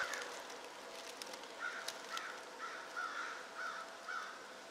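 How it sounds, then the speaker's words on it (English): Crows caw repeatedly outdoors on a mountain, a series of harsh calls spaced about half a second apart, moderately distant and fairly faint over soft wind. "Hear my crows?"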